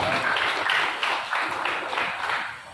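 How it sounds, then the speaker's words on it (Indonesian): Audience at a palm oil farmers' seminar clapping together in a short burst of rhythmic applause, fairly loud and close, with a few pulsing waves of claps and no talk over it. "Tepuk tangan buat kita semua"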